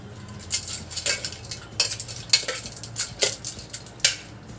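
Cooked tri-color pasta is lifted out and dropped into ice cubes, giving a series of sharp, close clinks and clatters at an uneven rhythm, with no talking.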